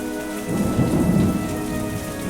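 Heavy rain in a thunderstorm, a steady loud hiss with a deep rolling rumble of thunder swelling and fading, no voices.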